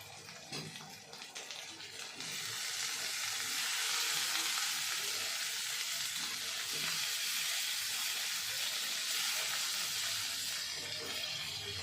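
Tomatoes tossed into meat already frying in a pan for a spiced curry, an initial clatter then a loud, steady close sizzle and hiss with light stirring throughout; no speech.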